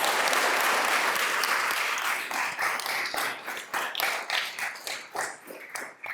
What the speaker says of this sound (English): Please join me in a round of applause for our 25-year service award recipients